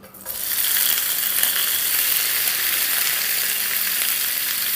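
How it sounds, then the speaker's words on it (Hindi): Green bell pepper and tomatoes sauté over a medium-high flame, giving a steady, loud, hissing sizzle that holds evenly throughout with no talking. "तो इसको अब हम हाई फ्लेम पे थोड़ा सा तेज़ कर लेंगे, मीडियम हाई, और सौटे कर लेंगे।"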